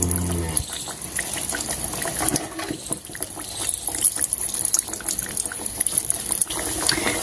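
Chirote pastries fry one by one in oil kept on a low flame, a continuous bubbling, gushing sizzle with sharp pops and clinks, close and fairly loud, with a voice faintly present.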